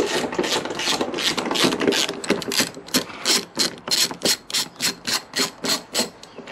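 Bolts being undone on a Suzuki SV1000 motorcycle to take off a snapped mirror bracket, heard as close, rapid ratcheting clicks in a steady rhythm that grow sharper and more evenly spaced toward the end.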